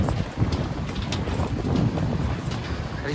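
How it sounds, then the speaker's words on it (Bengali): Strong wind in the North Sikkim mountains gusts against the microphone as a continuous rough rush, loud and close, with no talking over it. "ও এখানেও প্রচন্ড হাওয়া।"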